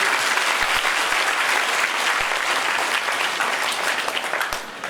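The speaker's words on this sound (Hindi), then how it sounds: "तो इनके लिए एक बार जोर से तालियां तो।" Loud, sustained applause from a large audience in a temple hall during a Bhagwat Katha religious discourse, a dense, continuous roar of many hands clapping that eases slightly at the end.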